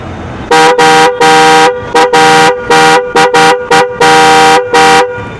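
A set of aftermarket horns for Hero Honda motorcycles such as the Splendor and Passion Pro honks loudly and close in a rapid series of short and longer blasts, alone with no talking.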